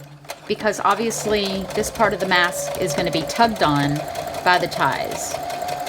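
A sewing machine stitches the sides of a fabric face mask, a steady mechanical hum running beneath continuous close talking.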